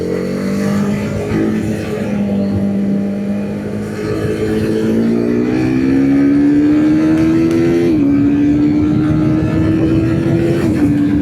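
A TVS Apache RR 310 motorcycle is ridden at speed, its engine note loud and close, rising through the gears with brief dips at the shifts, under heavy wind rush.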